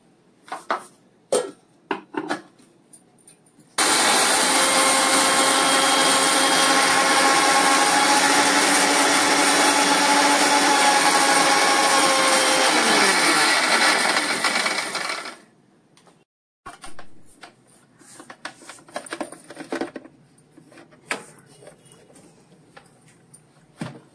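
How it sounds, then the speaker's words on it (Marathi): A mixer grinder roars loudly for about eleven seconds grinding fried fenugreek and mustard seeds, its whir dropping in pitch as it winds down, with clicks and handling noises before and after. "मेथीचे दाणे जे तळून घेतले ते असे मी आता मिक्सरमध्ये वाटून घेते"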